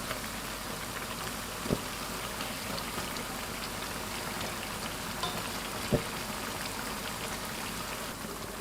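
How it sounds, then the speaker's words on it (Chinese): Sanzi dough twists deep-fry slowly in hot oil over medium heat, a steady dense sizzle and crackle with occasional louder pops, close and even throughout. "全程保持中火慢炸，防止一下炸糊，里边不熟。"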